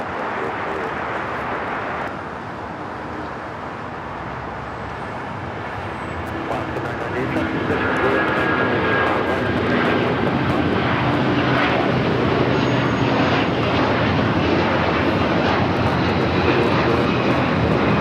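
Jet airliner at Los Angeles airport, a loud continuous engine roar that swells after a few seconds and stays strong and steady, with faint talk underneath.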